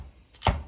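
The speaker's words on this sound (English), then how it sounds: "which is the chopper, and we're just going to chop this up like this." A single sharp chop from a hand food chopper cutting celery for crab soup, heard once, close and crisp, after a brief quiet moment.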